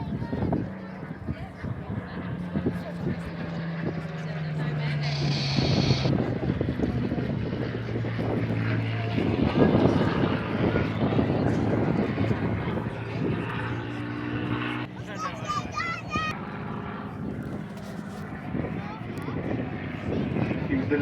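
Clipped-wing Spitfire TE311 flying at the Blackpool airshow, a loud droning engine that rises and falls as it passes, with someone talking over it and wind buffeting the microphone.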